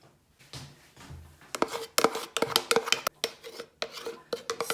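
A metal spoon scrapes chilli flakes out of a container, with a rapid run of loud, rasping scrapes and clinks that grows busier after a quieter start.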